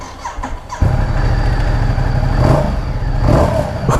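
A 2016 Ducati XDiavel S cruiser motorcycle starts up: a brief cranking, then the engine catches with a sudden loud, close rumble that settles into a steady idle with a couple of light revs.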